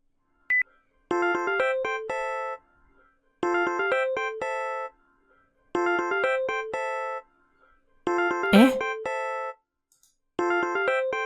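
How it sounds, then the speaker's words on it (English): A phone rings in a public toilet stall, a repeating electronic ringtone melody played in four evenly spaced bursts, clear and fairly close, with a brief rustling knock partway through. "A phone was ringing in the toilets."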